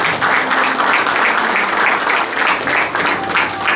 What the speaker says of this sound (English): let's give our late Ernesto Pop a big round of applause